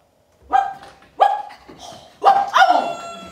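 A woman imitates a dog, letting out four loud, hoarse bark-like cries in irregular succession, the last two close together, with no other talk.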